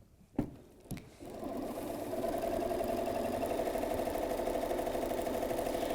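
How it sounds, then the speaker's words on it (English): A sewing machine runs steadily around the outside edges of a pillowcase with a 1/4 inch foot, a close, even whirring stitch that starts after a couple of soft knocks and continues alone. "I'm going to sew it all the way around the outside edges."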